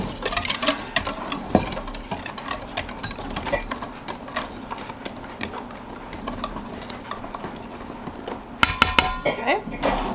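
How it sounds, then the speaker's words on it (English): A spoon clinks and scrapes against a bowl while baking batter with baking soda and salt is stirred, irregular clattering strokes with soft patter, growing sharper and louder toward the end. "And you stir that while"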